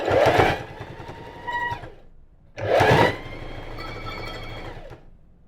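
A sewing machine stitches the hem band of a hoodie, running in two loud bursts of about two seconds each, with a short pause between them and a softer, steadier whir near the end.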